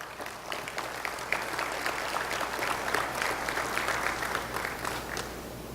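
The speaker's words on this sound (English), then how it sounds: "Please give them a round of applause." Steady applause from an audience at a school athletic hall of fame ceremony, a dense wash of clapping that holds at an even level for several seconds with no voices on top.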